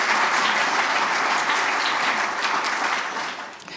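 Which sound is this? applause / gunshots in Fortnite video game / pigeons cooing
applause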